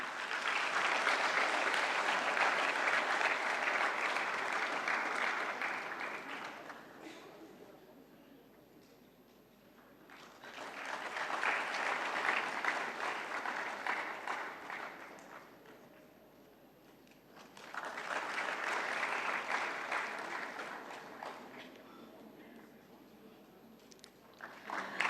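Audience applause at the AIFSS 2025 valedictory ceremony: three separate bursts of steady crowd clapping, each lasting several seconds, with quieter pauses between them.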